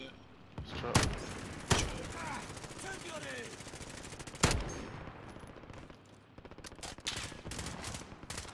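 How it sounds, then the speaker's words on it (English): Enemy gunfire in Call of Duty: Modern Warfare from a nearby building: sharp, separate cracks and short automatic bursts scattered over several seconds, a rapid cluster near the end, with voices talking underneath. "Somebody shooting at us."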